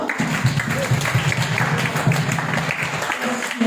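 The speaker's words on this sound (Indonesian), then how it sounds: "Tepuk tangan dulu kita semua." A church congregation applauds during a sermon, steady dense clapping from many hands sustained throughout at a fairly close, even level.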